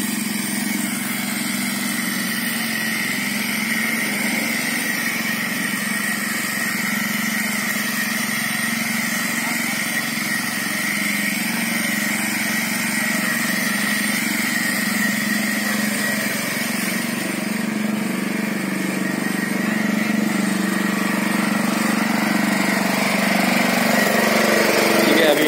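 Newly fabricated power tiller and weeder with a fitted engine runs steadily in a field at Melur near Madurai, Tamil Nadu, a continuous loud buzzing drone that holds for the whole stretch with no breaks.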